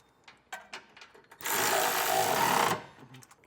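Power tool driving 17mm trailer hitch bolts on a 2024 Mitsubishi Outlander, a single loud rattling burst of about a second and a half after a few light clicks, close by.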